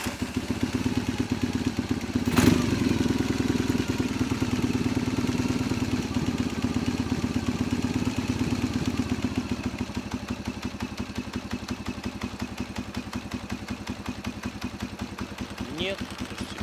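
Ural Wolf motorcycle fitted with Chinese carburetors, its engine running steadily throughout with a rough, clattering idle pulse, close by and loud, with brief speech over it.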